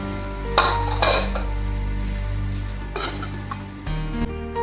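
Metal clatter of a lid settling on a small pot of green tea on a stove, several sharp clinks and rattles spaced through a steady low background hum.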